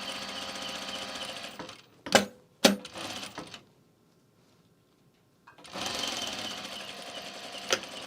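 A sewing machine stitches a 3/8 inch seam on a garment sleeve in close bursts, running steadily, stopping for a quiet pause, then starting again, with a couple of sharp clicks between runs.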